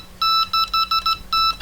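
A Delkim carp fishing bite alarm fitted with a smart clip gives a quick run of six sharp electronic beeps, irregularly spaced, loud and close with nothing else heard.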